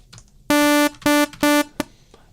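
Three sustained buzzy synthesizer oscillator tones followed by a short blip, bright and harmonically rich, with quiet pauses between them.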